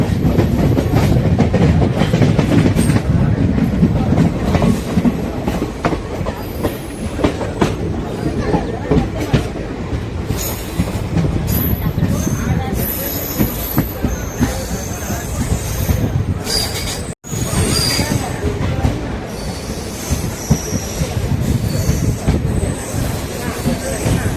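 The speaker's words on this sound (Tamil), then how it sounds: "கொடைக்கானல் ரோடு ரயில்வே ஸ்டேஷன்லேருந்து டிபேட் ஆகிட்டோம்." A passenger train pulls out of Kodaikanal Road railway station, its carriages rumbling loudly and continuously with clattering wheels, metallic squeals and rattling throughout, broken by a single brief dropout near the end.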